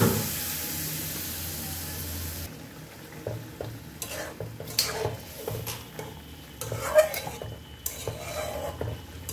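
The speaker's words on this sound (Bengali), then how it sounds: "এখন দিয়ে দিলাম পানি অল্প করে।" Hilsa fish simmers in a mustard sauce after a little water goes into the pan, with a steady sizzle followed by a spoon gently stirring and scraping against the pot in short, close clatters.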